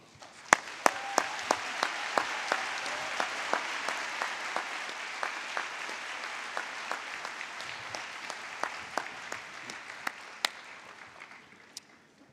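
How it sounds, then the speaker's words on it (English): An audience applauds a jazz quintet with continuous, moderately quiet clapping for about twelve seconds; a few sharp, closer claps stand out above the crowd before it tapers off. "join me in a warm round of applause for the Brian Sands Quintet"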